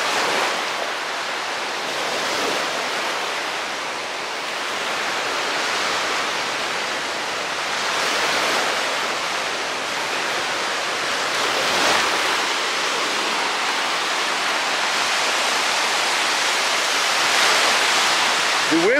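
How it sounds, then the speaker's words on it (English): Lake Michigan waves break on Ardmore Beach in Chicago, a steady, loud, broadband wash of surf that swells and recedes gently throughout with no clear pauses. "The waves are not that bad."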